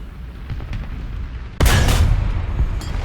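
A tank cannon firing in War Thunder: one sharp, loud blast cracks out midway over a low engine rumble, followed by a brief ringing tail and lingering rumble.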